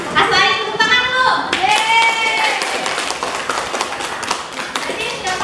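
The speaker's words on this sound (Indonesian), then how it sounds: "Tepuk tangan dulu" Students in a math classroom clapping, a lively dense burst of applause at close range, with voices talking and calling out over the start.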